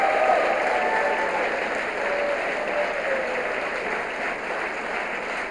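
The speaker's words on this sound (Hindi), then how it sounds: "इसमें तो ताली बजाओ यार" A large audience claps steadily and densely at a prime minister's public speech in India, a sustained roar of applause filling the space with no pause.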